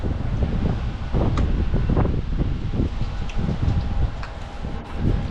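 Strong wind buffets a microphone outdoors in the Canadian Rockies, a loud continuous rumbling roar with gusty swells and rustling, no speech.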